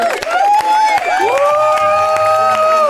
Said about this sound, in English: Round of applause for Debbie Hammond.